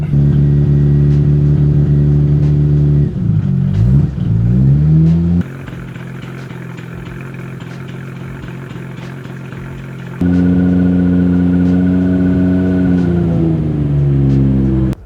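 A Nissan R34 GT-R engine idles on a hot night, then revs up and settles. There is a long quieter pause where it drops off, then it returns to a loud, steady idle with gentle rises in pitch, close by and alone.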